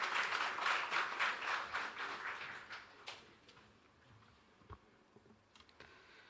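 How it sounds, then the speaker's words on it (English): Audience clapping to welcome a speaker at the launch of the Amazon Web Services development center in Kenya, a dense patter of claps that fades after a few seconds into scattered, quieter claps. "Let's welcome him with a clap,"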